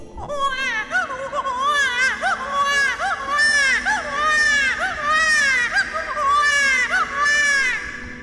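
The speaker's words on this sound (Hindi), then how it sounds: "ये तो कोई छोटी बच्ची की रोने की आवाज लग रही है।" A little girl cries loudly and continuously, wailing sobs rising and falling in repeated bursts, close and alone.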